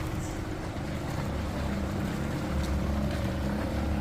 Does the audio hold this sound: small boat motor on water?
yes